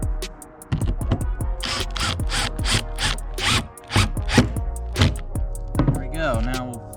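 The last screw is driven into a Lifetime fishing kayak, giving rapid ratcheting clicks and mechanical bursts nearby, with brief voices near the end.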